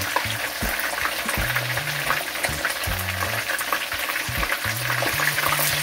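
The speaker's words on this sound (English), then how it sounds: "This one is fried dry." Parrot fish or snapper frying in hot oil, a loud, dense, continuous crackling sizzle heard close up, with low tonal hums beneath and no speech.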